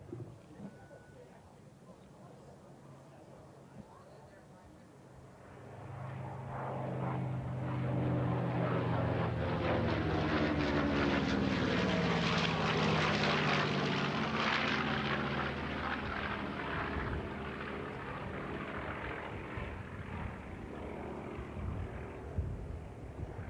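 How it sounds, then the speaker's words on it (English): A B-25 twin-engine propeller bomber passes at the National Championship Air Races in Roswell, New Mexico, its droning roar building from faint to loud, peaking mid-pass and fading slowly with a shifting pitch. "Here comes the B-25 from the right."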